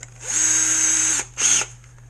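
A handheld power drill boring a hole in a boat build, a steady whine of about a second, then a brief second burst before stopping, close and clear.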